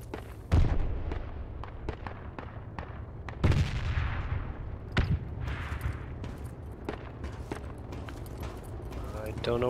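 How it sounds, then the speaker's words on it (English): Several loud, sharp booms go off among scattered cracks of gunfire, some close and some distant, with faint voices talking, in the video game Project Reality. "Don't know what that explosion was to our west."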